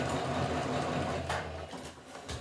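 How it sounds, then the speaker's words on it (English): A sewing machine runs a straight line of stitches, making a steady mechanical whir that stops and starts in short bursts near the end, with no talking. "If this is the first time you've used a sewing machine"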